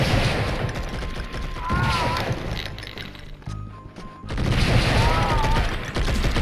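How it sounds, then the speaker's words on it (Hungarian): Gunfire in the video game Blood and Bacon comes in loud, dense volleys that break off briefly near the middle and then resume, with no talking. "lövés hang is olyan, mint az Indiana Jones-ból lenne"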